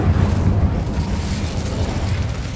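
Incendio fire spell cast in the Hogwarts Legacy video game: a dense, rumbling fiery burst that roars steadily and holds loud and close for the whole span.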